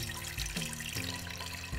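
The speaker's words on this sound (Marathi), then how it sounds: "कुकरमध्ये थोडंसं पाणी," Water pours into a pressure cooker holding washed toor dal and green chillies, a quiet continuous splashing stream with a few gurgling surges, close by and without speech.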